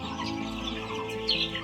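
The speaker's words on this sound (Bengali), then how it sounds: "1 মাস বয়সী ফার্মি মুরগি।" One-month-old Fayoumi chickens cluck in a poultry shed: a dense, close chorus of soft clucks and chirps running continuously with no pause.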